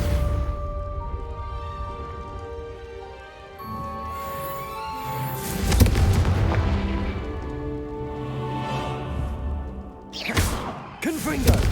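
Confringo blasting spells exploding in Hogwarts Legacy combat, with heavy thudding blasts near the middle and a sharper cluster of bursts toward the end, set against sustained tonal music and voices.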